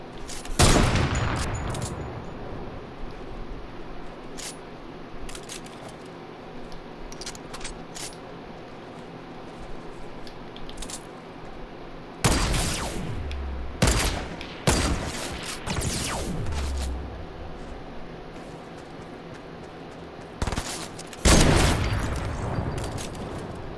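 Shotgun blasts and gunfire in the video game Fortnite Battle Royale ring out in several loud, separate bursts, with sharp reports near the start, around the middle and toward the end over a low steady game background.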